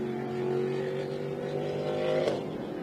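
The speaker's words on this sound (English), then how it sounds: "Lights out on the BMW safety car as it accelerates away" A BMW safety car pulls away on the Daytona International Speedway circuit during an IMSA Prototype Challenge race. Its engine note is a steady mid-distance drone with layered harmonics that swells briefly near the end.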